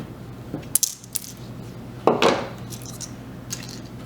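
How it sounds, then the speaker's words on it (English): Number 24 wire cut in half with a small cutter, producing a few sharp metallic snips and clicks, close and brief, against quiet room tone. "take a number 24 wire and we are going to cut it"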